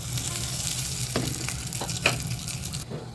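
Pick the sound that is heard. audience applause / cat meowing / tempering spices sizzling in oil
tempering spices sizzling in oil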